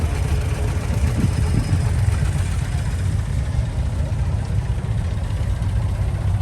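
Allis-Chalmers tractor engine idling at a steam and antique machinery show in Halltown, Missouri, a steady low rumble that holds even and continuous, with faint background chatter.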